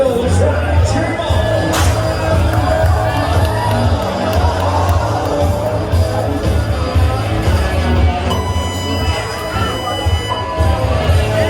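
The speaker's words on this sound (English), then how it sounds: "Cheer him on." Crowd at a rodeo-style event in Cody, Wyoming cheering on a rider, a loud babble of shouts, whoops and cheers with voices mixed throughout over a low, steady rumble.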